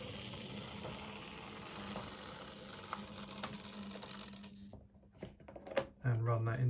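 A model railway locomotive on a small box-file micro layout runs with a steady mechanical whirr and faint clicking for most of the stretch. It drops away briefly, then returns with a louder low hum.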